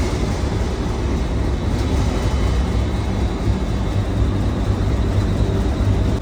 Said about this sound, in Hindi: इंजन स्टार्ट हो रहा है।